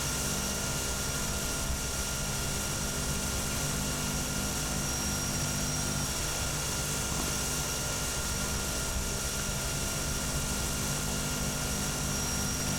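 A steady, loud aircraft engine drone from a flight over Michigan's west coast in Microsoft Flight Simulator X, unchanging from start to end with no voices.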